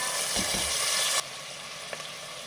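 Finely chopped tomato frying in a pan for raw jackfruit pulao, a steady close sizzle that drops to a quieter crackle halfway through, with a faint stir or tap near the end and no talking.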